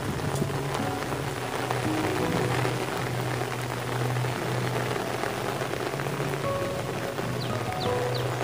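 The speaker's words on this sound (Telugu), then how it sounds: "వర్షం అయితే బాగా ఎక్కువగా ఉందండి" Heavy rain that has fallen for days pours steadily outdoors, a dense continuous hiss of drops on surfaces at even loudness, with a low hum underneath.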